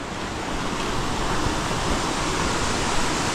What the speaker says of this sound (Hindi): यह है गांव का काफ़ी पुराना घट जिसे चक्की भी कहा जाता है